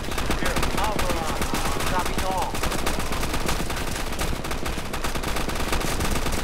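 Rapid automatic gunfire rattles without pause in Roblox's Call of Duty: Modern Warfare II, loud and close, with a brief voice faintly heard beneath the bursts.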